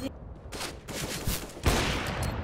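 Bursts of rapid gunfire in a competitive Counter-Strike match, a few sharp rattling volleys in quick succession at moderate loudness over background game noise.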